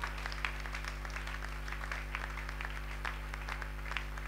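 A church congregation at a Sunday praise and worship service applauds in a steady, even clapping over a low constant hum, moderately distant and without pauses.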